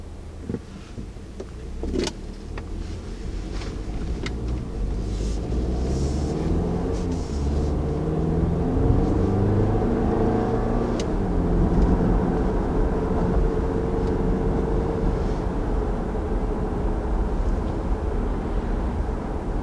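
A 2019 Audi Q5 crossover accelerates hard, its engine and road noise making a steady low rumble that builds and holds for about twenty seconds, heard from inside without talking.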